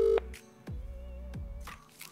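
A phone being dialed to call someone: a short electronic tone, then a couple of sharp clicks and a faint steady tone, close and fairly quiet, with no voices.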